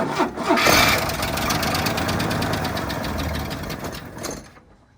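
A 1968 AMC Rebel 550 engine with a sticking lifter cranks and catches, then runs at a rough idle with a rapid ticking clatter. It sounds close and loud, then cuts off at the end.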